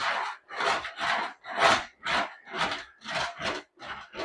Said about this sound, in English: right tool for the job is definitely the English wheel